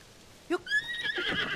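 A horse in Zelda: Tears of the Kingdom gives a short, bright whinny that rises then trails into a breathy, fluttering snort, close and clear with no talk over it.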